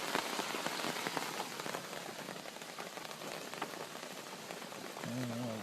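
Steady rain falls outside on a September evening, a constant pattering of drops on surfaces with sharp individual splats, moderately loud, and a voice briefly speaks near the end.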